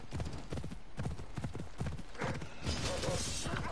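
Horse hooves clip-clopping in the video game Assassin's Creed Odyssey, a steady, close, rhythmic trot of repeated hoofbeats, with a brief rush of other game sound near the end.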